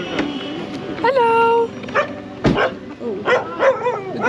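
Dogs on a street in Pokhara, Nepal, yip, bark and let out high whimpering whines up close, in short irregular bursts with one sharp bark near the middle.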